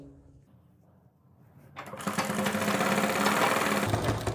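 Sewing machine running steadily as it stitches the edge of a palazzo, starting after a quiet lead-in and then whirring loud and continuous with a low mechanical rumble, close by.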